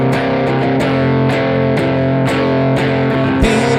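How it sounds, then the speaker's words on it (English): Distorted electric guitar chords ring out loud and sustained, re-struck in a steady rhythm with brief pick attacks between the held, saturated notes. "you can add a bit more distortion if you want to really give it for those big parts"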